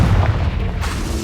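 A Confringo fire-blast spell explodes in the video game Hogwarts Legacy, a loud booming burst with a rumbling low-end tail lasting about a second, close and alone.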